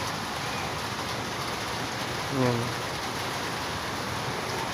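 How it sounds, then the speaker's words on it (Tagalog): Heavy rain pours down in a constant dense hiss, close and loud throughout, with a short spoken word partway through. "so malakas ang ulan, oh"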